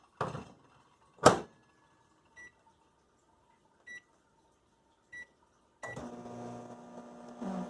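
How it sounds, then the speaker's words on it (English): A couple of clunks, then a few short electronic beeps spaced apart, before a steady low hum of a microwave oven heating sweet corn starts running nearby. "Put this in the microwave."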